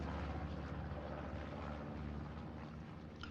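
A recon plane in the Hell Let Loose video game drones overhead as a steady, broad engine roar, moderately loud and continuous, with no talk.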